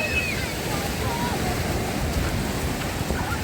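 Black Sea surf washes steadily onto a crowded beach in Odesa in mid-September, in a continuous roar, with faint voices murmuring in the background.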